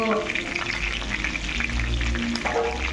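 Chicken pieces deep-frying in oil for chilli chicken, a loud, dense, continuous close-up sizzle and bubbling that runs throughout without pause.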